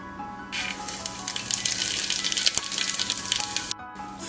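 Dry round chilies and coriander cumin seed hit warm oil, bursting into a bright, crackling sizzle that holds steady for a few seconds, then briefly cuts out near the end.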